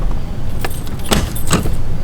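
Several bursts of metal keys jangling close by as someone works at the door of an Airstream trailer at a campground, quick irregular shakes over a low rumble.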